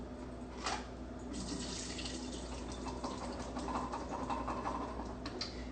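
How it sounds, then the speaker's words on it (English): Tap water running into a sink while canned chickpeas are drained and rinsed, a steady soft splashing stream with faint spattering and clinks, close and fairly quiet. "And then I'm just gonna drain it and rinse it."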